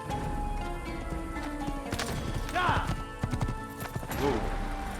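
Horse hooves clip-clopping in the Assassin's Creed video game, a steady near gait with a couple of whinnies over background game sound.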